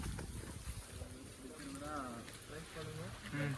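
Steady heavy rain pours down outdoors, drumming on a tarpaulin rigged over a cooking stove, a constant broadband hiss with voices talking faintly underneath.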